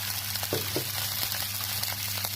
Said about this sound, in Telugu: ఆవాలు వేగిపోయి ఇప్పుడు అందులో నేను 1 కప్పు నీళ్ళు పోసుకుంటున్నాను.